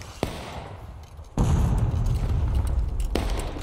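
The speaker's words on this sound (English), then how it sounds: "Nice artillery shot" An artillery shot in the Civil War game War of Rights lands as a sudden loud boom with a rumbling tail, after a sharp crack, with another faint crack following.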